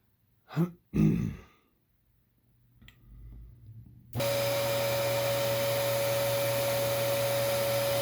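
After a throat clearing and a few quiet handling sounds, a Dyson DC21 Motorhead vacuum cleaner starts up with suction at the hose end, giving a loud steady roar with a constant whine.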